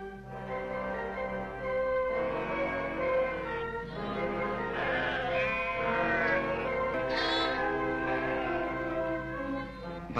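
Many sheep bleat nearby, overlapping calls rising and falling steadily, with no talking.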